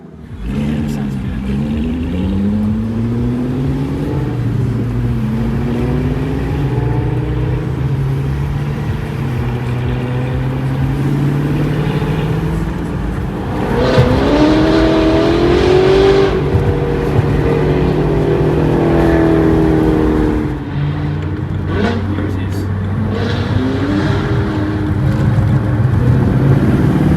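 A C7 Corvette with a Corsa Extreme full exhaust and X-pipe revs repeatedly, its engine note rising and falling through several throaty sweeps. People talk underneath.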